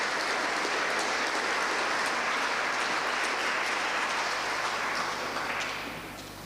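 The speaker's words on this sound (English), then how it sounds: "Can we have a round of applause, please?" An awards ceremony audience in a town hall applauds in a sustained, dense wash of clapping that holds steady and then tapers off near the end.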